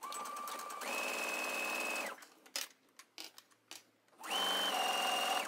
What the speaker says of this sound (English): we're gonna sew a straight stitch all the way around here